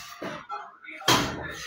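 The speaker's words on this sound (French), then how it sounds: "Ferme la porte là." A door is pushed shut with a sharp thud partway through, heard close under ongoing talk in French.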